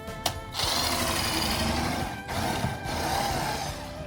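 A power drill whirs in short bursts close by, pausing briefly between runs as it enlarges holes in the metal trunk of a Toyota Corolla hatchback.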